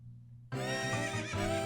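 A horse neighs loudly in The Legend of Zelda: Ocarina of Time, a sharp whinny rising out of near silence, rich and sustained with a wavering pitch and no talking.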